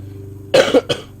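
Two harsh, close coughs in quick succession, loud against a quiet background hum.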